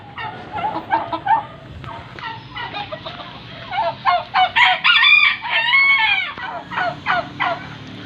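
On a small farm with chickens and turkeys, a rooster crows while hens cluck in bursts around it, loud and close with brief pauses between calls.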